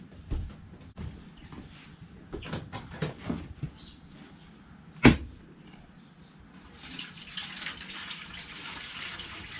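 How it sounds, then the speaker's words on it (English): Tap water runs into a metal water pan for a smoker while a 20 lb brisket is being prepared, a steady faucet stream heard close with clanks and handling knocks around it and no speech. "I still have to get some water for my pan."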